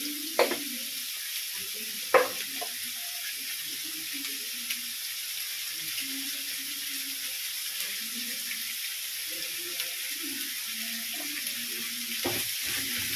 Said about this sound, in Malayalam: ഉപ്പ് ചേർത്ത് സവാള നന്നായിട്ട് വഴറ്റിയെടുക്കുക